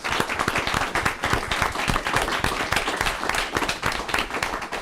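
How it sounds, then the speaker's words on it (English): A meeting audience at a planning commission session claps steadily for about five seconds, a dense run of many hands that stays loud and even throughout, with no talking. "let's give them a round of applause, please"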